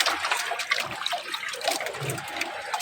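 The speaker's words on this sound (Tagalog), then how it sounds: "Grabe kalakas. Lalaki ng alon." Big waves churn at sea during a typhoon near a rocky, uninhabited island, a continuous loud rushing and splashing of water with surging bursts, close to the listener.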